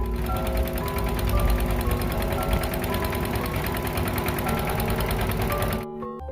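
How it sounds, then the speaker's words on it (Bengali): The engine of a large launch speeding along the Buriganga river throbs loudly and steadily with a rapid mechanical knocking, heard close by and without talk, before dropping away abruptly at the very end. "অনেক স্পিডে যাচ্ছে লঞ্চটা।"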